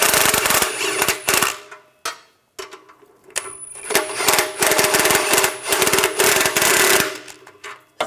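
Exhaust manifold nuts on a 2013-2018 Hyundai Santa Fe being run down with a 17mm socket: close, loud bursts of rapid mechanical rattling, separated by short pauses, with no talking.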